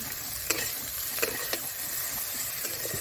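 Thick, mature drumstick (sajne) stems frying with spice in a pan, stirred with a continuous soft sizzle broken by a few sharp scraping clicks of the spatula.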